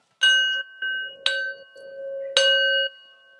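A small bell rings clearly three times at irregular intervals, each bright strike followed by a sustained, pure ringing tone that lingers in a quiet space.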